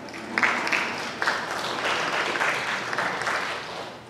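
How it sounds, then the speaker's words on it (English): A congregation applauds steadily for several seconds at a Sunday worship service, a dense wash of clapping from many hands in a large room with no voices over it. "give yourselves a round of applause"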